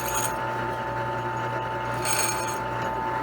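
A small starting hole is drilled into a mule shoe, producing a steady, close motor whine with faint grinding texture and a couple of brief brighter scraping bursts.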